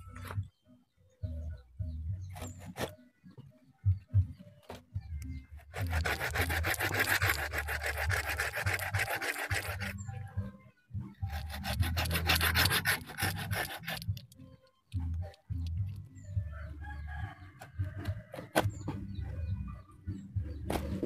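A hand saw cuts through a large amplas tree branch outdoors in long steady rasping strokes, working in two sustained bursts with scattered knocks and pauses between them.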